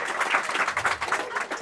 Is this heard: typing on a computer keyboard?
no